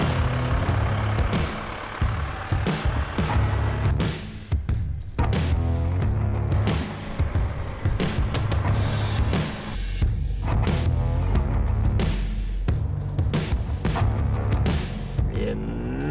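A 2025 Toyota Land Cruiser 250 climbs a very steep off-road slope of nearly 30 percent in Morocco, its engine straining loudly and continuously with a heavy low rumble and clattering bursts throughout.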